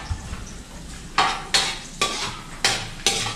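Adobo eggs being stirred and fried in a pan, with a steady sizzle broken by five or so sharp scraping utensil strokes against the pan, close and clear with no talking.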